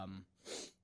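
A single quick sneeze bursts out faintly after a short vocal intake, heard at low level during a podcast conversation.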